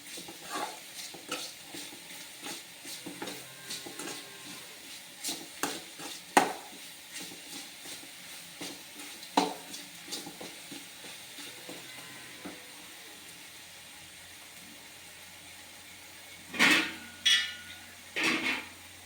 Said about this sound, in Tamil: நல்லா தக்காளி வதங்கணும்.